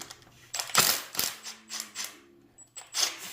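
A socket wrench loosens bolts on a Mazda RX-7 FD alternator, a few close sharp metallic clicks and ratcheting taps in quick irregular bursts.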